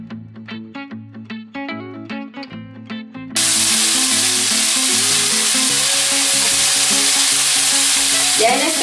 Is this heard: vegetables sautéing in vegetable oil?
yes